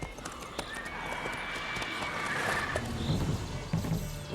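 Roach, the horse in The Witcher 3 video game, neighs and whinnies while hooves clip-clop at a trot, close and fairly loud, with faint game sounds underneath.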